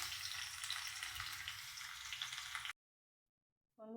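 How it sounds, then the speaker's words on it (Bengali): Potatoes fry in oil for a mutton curry, giving a steady close sizzle that cuts off abruptly, then a brief faint sound just before the end. "এর জন্য আমি মাটনে দেবো আলুগুলো লাল লাল করে ভেজে নিচ্ছি"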